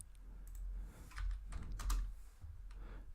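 Typing on a computer keyboard during software reverse engineering in a debugger: bursts of close, crisp key presses in an uneven rhythm, some strokes louder than others, with short pauses between groups.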